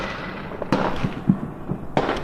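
Fireworks burst in the sky on Bonfire Night 2017 with two sharp, loud bangs a little over a second apart and smaller crackling pops between them.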